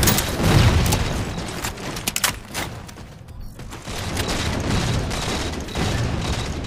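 In Halo 4 multiplayer Slayer on the Abandon map, grenade blasts and heavy gunfire boom through a dense, busy game soundscape, with loud bursts near the start and a steady rumble afterward.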